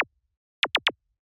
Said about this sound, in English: the other percussion layer that we have here is this little zap